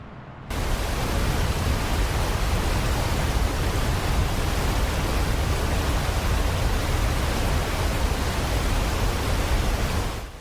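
The steady, broadband roar of a large waterfall in southern Ontario, dropping 167 feet, runs unbroken for about ten seconds as a dense, even wash of rushing water with no other sounds.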